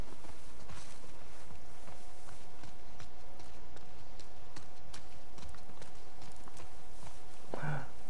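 Horse hooves clip-clopping at a walk in The Last of Us Part II, soft and steady against a quiet game background, with a brief louder sound near the end.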